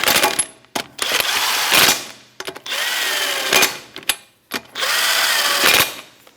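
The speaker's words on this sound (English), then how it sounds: "that's a 21mm socket, and we'll just snug them up and then torque them to factory spec" A power tool with a 21mm socket spinning lug nuts snug on a 2008-2013 Nissan Rogue wheel, several whirring bursts broken by metallic clicks and clinks, close and fairly loud.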